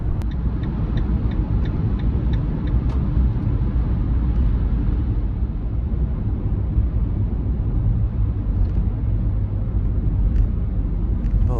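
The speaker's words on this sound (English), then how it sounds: "I've been driving along Avenue of the Giants for a little bit here" A car drives along the Avenue of the Giants, a forested road, with a steady low rumble of engine and tyre noise that stays continuous and close throughout, with a few faint ticks near the start.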